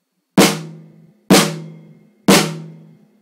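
A snare drum fitted with a Moongel damper pad is struck three times at an even pace. Each hit is near and loud, with a shorter, more controlled decay, and no voices are heard.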